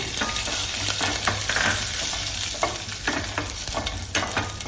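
Garlic frying in hot oil with cumin and coriander seeds in a pan, a steady crackling sizzle with scattered sharp pops and stirring scrapes, close and continuous.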